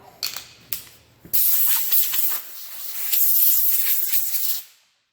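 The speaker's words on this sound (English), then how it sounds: "I'm just going to blow off all the crap that's in it" A wooden workpiece for mitre-folded veneer shelves gets blasts of compressed air to clear dust and debris: two short puffs, then a long, loud, close hiss that dips briefly before a second sustained burst cuts off.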